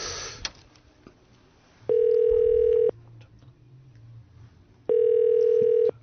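A telephone ringback tone sounds twice, each a steady one-second buzz separated by a quiet gap, with faint background noise and no answer.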